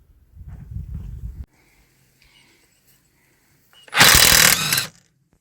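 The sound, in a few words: cordless impact wrench on Volkswagen front wheel nuts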